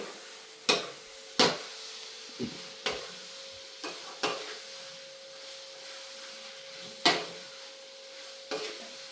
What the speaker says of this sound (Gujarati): હવે પાછું આપણે આને હલાવી લેવાનું છે